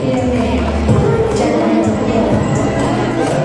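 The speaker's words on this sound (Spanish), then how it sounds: "Fuertes aplausos." An audience applauds at a fashion show for the Ayacucho brand, with dense, steady clapping and crowd noise filling the whole stretch, fairly loud and continuous.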